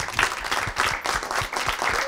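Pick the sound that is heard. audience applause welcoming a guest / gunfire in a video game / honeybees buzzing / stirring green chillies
audience applause welcoming a guest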